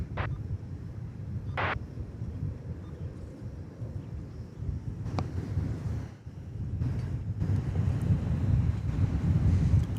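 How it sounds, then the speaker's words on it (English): Wind buffeting a microphone outdoors at an airport plane-spotting spot, a steady low rumble with gusts that strengthen toward the end, alone with no talk. "Wind is picking up a bit."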